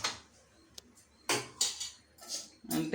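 A metal pan picked up and set down on a gas stove in a home kitchen, a few sharp close clanks and scrapes separated by short pauses, with no talking.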